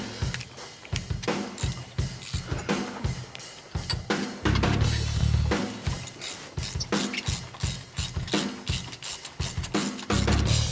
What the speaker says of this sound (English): I'll find a wrench here and I'll take the other one out.